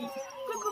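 Seven-week-old puppies making a brief, close, high-pitched whimpering whine, soft and over in under a second.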